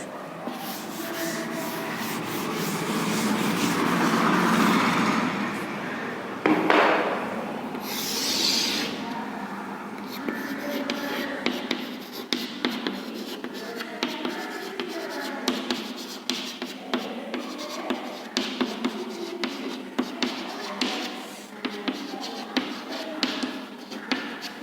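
Pen or chalk writing out a sum during a maths lesson, a steady scratchy rubbing that continues through the clip with no talk over it.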